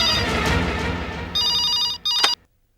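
A telephone rings in a TV drama, a bright electronic trilling that starts partway in over a dramatic music swell, rings in two short bursts and then stops dead.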